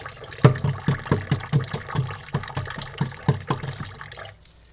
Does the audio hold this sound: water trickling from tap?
yes